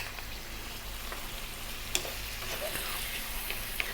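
Coriander, turmeric, chili and cumin fry on high heat for a buffalo meat curry, giving a steady close sizzle with faint stirring clicks and no voices.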